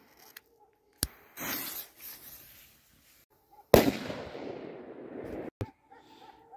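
Small FP 3000 firecracker going off outdoors, a sharp crack followed by a hissing, crackling spray that fades out over a couple of seconds, with faint voices nearby.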